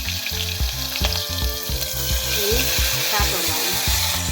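Ginger, chili and garlic paste fries in hot oil with mustard seeds, cumin, dried red chilies and asafoetida for a stuffed brinjal and potato curry. It makes a loud, continuous close-up sizzle with rhythmic low thumps from stirring.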